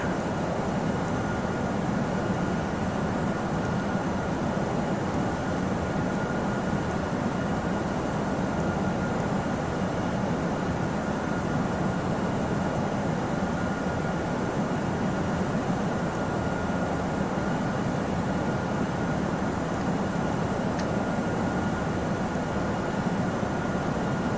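Steady broadband roar of an Airbus A321's engines in Flight Simulator X, with a constant whine over a low rumble that holds even and unbroken throughout, with no talking.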